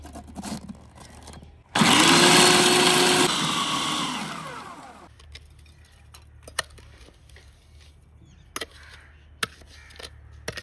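A kitchen grinder pulverising softened edible gum (gond) runs loud and close for about three seconds, whining down as it stops, followed by quiet scraping and sharp taps.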